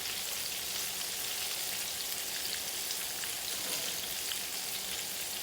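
Okra cakes fry in a pan with a steady, dense hiss of sizzling oil, loud and continuous throughout with no talking.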